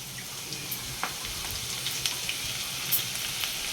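Onions going into hot oil already crackling with cumin and mustard seeds, a steady close sizzle scattered with small pops and spits.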